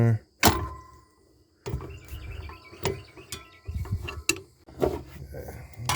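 A wrench working loose the clutch fan nut on a 2006 Jeep Commander 4.7 V8 during a water pump job, heard as a few sharp metallic clanks and ratcheting scrapes close by, separated by short quiet pauses.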